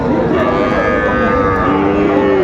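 A calf moos repeatedly at a busy cattle market at Aftabganj haat in Dinajpur, the loud calls standing out over a continuous crowd murmur.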